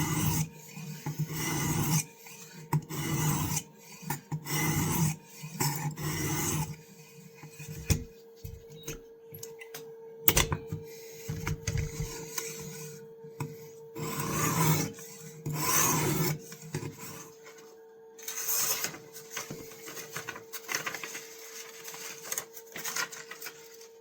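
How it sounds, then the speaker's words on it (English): Vintage knives being sharpened, repeated rasping strokes in uneven bursts with short pauses between them, close and moderately loud, with no talking. "Now we got to sharpen them."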